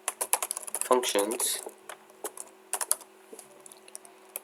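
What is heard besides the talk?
typing code on a computer keyboard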